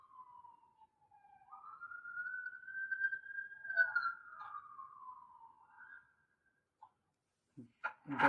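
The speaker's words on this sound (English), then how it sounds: "they pass with their sirens blaring" A police car siren wails past an apartment, rising and sliding in a long tone that grows louder then fades away, followed by silence and a few sharp knocks at the end.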